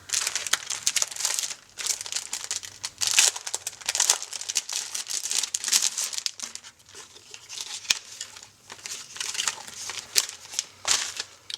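Clear plastic page protectors crinkle and crackle as they are handled and cut, with close, loud, irregular bursts of crisp rustling running throughout and no talking.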